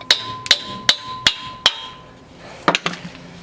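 Heavy hammer knocking out a CV axle shaft on a Toyota 4Runner, five evenly spaced metallic strikes with a ringing tone, then a short pause and three quicker blows, loud and close, with no talk.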